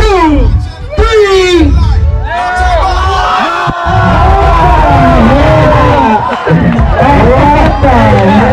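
A loud crowd at a live breakdance battle roars, whoops and bellows together in sustained waves, with shouted voices rising above the din and a couple of brief lulls.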